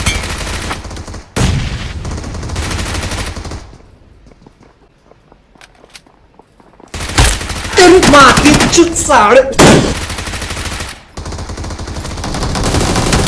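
Gunfire crackles in a close-range BGMI (PUBG Mobile) fight, loud rapid bursts and shots before and after a quiet pause of a few seconds.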